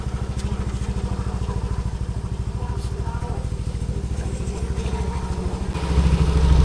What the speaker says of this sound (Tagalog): itong muffler natin ng endgame pipe natin dito is yung MTRT Evo 2